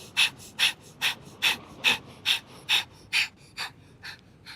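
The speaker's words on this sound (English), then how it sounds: "Inhale with breath of fire and begin." Rapid breath of fire yoga breathing on a beach: about ten sharp, evenly spaced nasal exhalations, roughly two per second, close and fairly loud, tapering slightly toward the end, with no talking.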